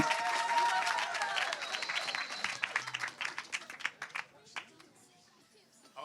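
Live audience at an Earthmovers 2018 evening event applauding and cheering loudly, a dense wash of clapping and whoops that gradually thins into scattered claps, with voices mixed in.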